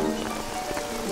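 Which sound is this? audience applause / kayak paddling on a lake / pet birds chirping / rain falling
rain falling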